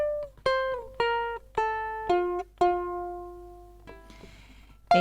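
A ukulele in high G tuning plays a riff, a run of about six clear plucked notes that step downward and ring out, then a soft scratch and one last pluck, with no talk.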